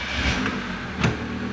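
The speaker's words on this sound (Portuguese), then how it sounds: "Quando você der o contato e a partida no veículo" A car's engine starts and settles into a steady idle, the car having mechanical or hydraulic power steering; a short burst of cranking near the middle, then a moderate, even hum with no voices.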